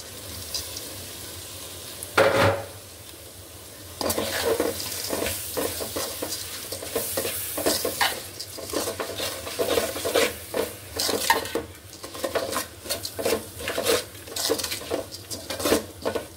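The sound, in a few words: stirring rice and lentils in a pot for khichuri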